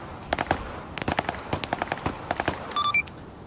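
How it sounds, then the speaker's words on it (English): Gunfire in the video game Arma 3: a series of sharp rifle shots in short bursts and single cracks, moderately distant, followed by a few beeping tones near the end. "Shots?"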